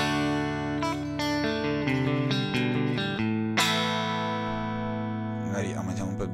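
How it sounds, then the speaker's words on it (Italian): Electric guitar played through a HelixIR amp and cab with reverb added, ringing strummed chords and picked notes that trail off in a spacious wash, alone without talk. "voler arricchire un po' il suono con degli effetti ambiente, per esempio un riverbero"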